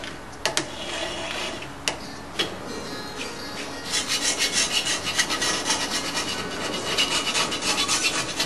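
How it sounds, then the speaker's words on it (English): Rasping, rubbing strokes as the edges of a Mitsubishi Evolution cylinder block are chamfered, with a few sharp ticks at first and then a steady, repeated scraping rhythm, close and without talk. "We'll go ahead and chamfer the edges and chamfer all the oil holes and bolt holes."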